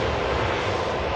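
Ryanair Boeing 737 MAX jet at Manchester Airport, a steady broadband engine roar that stays loud and even through the short moment.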